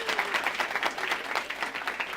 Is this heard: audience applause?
yes